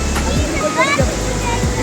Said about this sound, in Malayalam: നമ്മുടെ ഈ ലിൻഡലിലോട്ടുള്ള ഒഴുകുന്ന വെള്ളത്തിൻ്റെ മേജർ ഭാഗം വരുന്നത് ഈ ഒരു വെള്ളച്ചാട്ടത്തിൽ നിന്നാണ്.